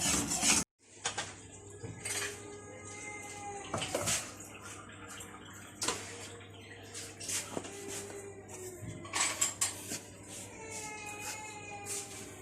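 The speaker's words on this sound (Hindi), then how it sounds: "इसको बीटर से अच्छी तरह से हल कर लें" Beater clinking and scraping against a bowl while a cream sauce is mixed, a run of irregular metallic taps and rattles at close range with no voices.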